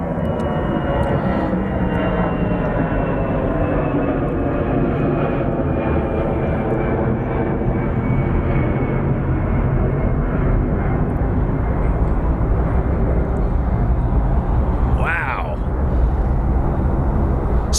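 A Boeing 737 MAX roars loud and close on runway 09R at London Heathrow, a sustained jet engine rumble with a slowly shifting whine across the whole stretch, while people talk faintly beneath it.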